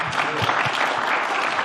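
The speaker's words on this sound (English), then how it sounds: "I'd like to request a big round of applause for Erica for this" An audience at a talk gives the event organizer a burst of dense, steady applause, close and continuous for under two seconds.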